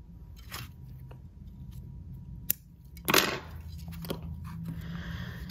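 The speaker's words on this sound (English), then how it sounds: "I'm actually going to cut my cording in the red" Scissors cut through waxed jewelry cord in a quiet room, giving a couple of sharp, brief snips close by, with soft handling noise between them.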